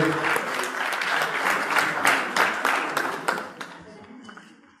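Audience applause for Dr. Antonio Piñero of the Universidad Complutense de Madrid at a lecture on religion and power: a dense wash of many hands clapping, fairly close, with a few voices underneath, tapering off toward the end.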